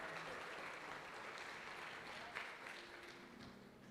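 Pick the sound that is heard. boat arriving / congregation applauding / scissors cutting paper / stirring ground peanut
congregation applauding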